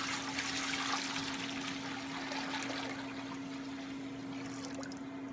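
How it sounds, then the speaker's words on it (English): A gallon of water is poured into a bare steel cooker for hot bluing, a quiet continuous splashing pour that eases slightly toward the end, with a steady low hum behind it. "So let's go ahead and pour this in our cooker."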